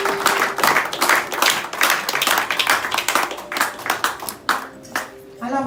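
Applause from a congregation at a church women's convention, brisk and fairly close, pulsing in rhythmic waves and thinning toward the end, with voices mixed in.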